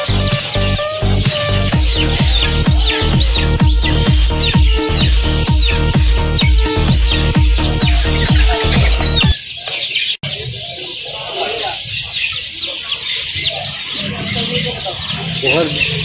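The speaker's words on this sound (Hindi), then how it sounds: "ये देखिए कितने खूबसूरत बर्ड्स हैं यहाँ पे, तोते कबूतर कितने खूबसूरत हैं" Caged chickens, pigeons and parrots at Lahore's Tollinton bird market cluck and call loudly and close for about nine seconds, then softer chirps and crowd noise carry on after a sudden cut, with someone talking over them.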